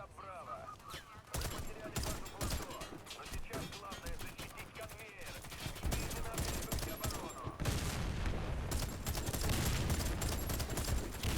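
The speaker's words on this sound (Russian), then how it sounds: "Ого, новогодний пулемет." Rapid bursts of machine gun fire in the video game Warface, a holiday-themed gun, loud and continuous with dense overlapping shots, intensifying toward the end, with someone talking over it.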